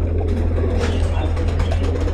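Saharanpuri pigeons in a loft give soft, low cooing beneath a steady low engine-like hum, with faint background chatter.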